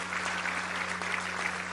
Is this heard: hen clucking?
no